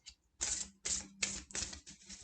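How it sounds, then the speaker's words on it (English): Oracle card deck shuffled by hand in a vertical overhand shuffle, a series of four or five crisp riffling bursts with short pauses between, close and fairly quiet, no talking. "I was going to do a vertical shuffle"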